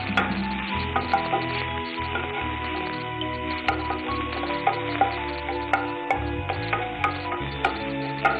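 Tomatoes sautéing in a pan for kovakkai kuzhambu: a steady sizzle with repeated scraping and stirring knocks of a utensil, close and fairly loud, with no talking.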